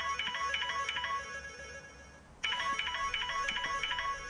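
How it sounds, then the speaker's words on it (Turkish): A telephone rings in a steady electronic ringtone pattern, loud and continuous with a brief break in the middle, no one speaking over it, in a domestic drama scene. "Telefonun jiringle yaptı."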